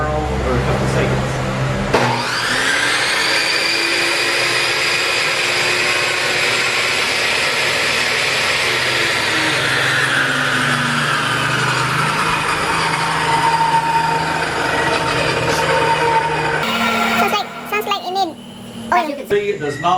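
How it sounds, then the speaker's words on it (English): A Stanley SST1801 table saw switches on without a soft start, its motor whine rising sharply to full speed, running loud and steady, then spinning down near the end amid some clatter and brief talk. "I'm going to turn it on so you can see it and hear it"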